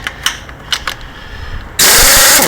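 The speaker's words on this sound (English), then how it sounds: "A rattle gun." A pneumatic rattle gun spins off a transmission pan bolt on a Holden Commodore 4L60E automatic, first a few short close bursts, then a loud, sustained whirring rattle that runs to the end.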